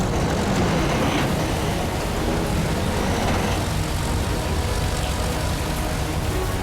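Heavy truck engine revving hard under throttle on a highway recovery scene, a loud continuous rumbling roar with dense broadband noise that stays steady throughout.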